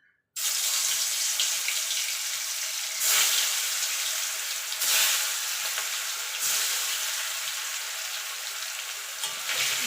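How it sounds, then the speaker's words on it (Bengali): Pieces of Shankar fish dropped into hot oil in a kadai, bursting into a loud, steady hiss and crackle that swells in waves every couple of seconds, close and continuous with no voices. "এবার মাছগুলো আমি ভেজে নেব।"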